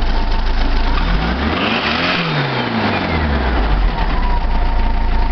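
A 1904cc VW engine with a Solex 34 PICT-3 carburetor revs up and drops back in one smooth throttle blip. The engine noise is loud, close and continuous throughout.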